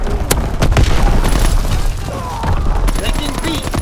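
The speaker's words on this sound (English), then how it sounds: "Firing primary battery." Heavy naval battery guns fire in a Call of Duty WW2 multiplayer match, loud booming blasts and overlapping explosions rolling through a dense, continuous battle din, with a faint radio-style voice in the background.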